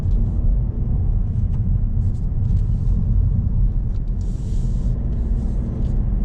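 A car rolls forward in first gear on a road from St Marks toward Britford Park & Ride, giving a steady, close, low engine and road rumble throughout with no talk.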